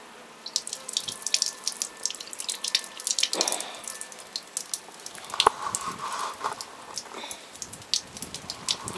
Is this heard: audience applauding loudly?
no